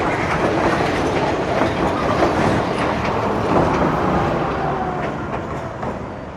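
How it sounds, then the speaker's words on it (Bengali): A train pulls into a seaside railway station on the coastal line between Hikkaduwa and Colombo, Sri Lanka, with a steady, loud rumble and rattling wheel clatter lasting throughout, nearby and without voices. "ফাইনালি ঢুকছে একখানা ট্রেন"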